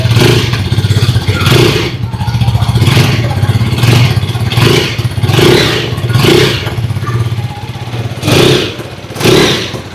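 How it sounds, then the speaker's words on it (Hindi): KTM Duke 250 motorcycle, 2026 model, revved repeatedly: a loud, close exhaust note rising and falling in about eight throttle blips over a steady idle, with no talking. "अभी सुन लेते हैं ड्यूक 250 की एग्जॉस्ट नोट।"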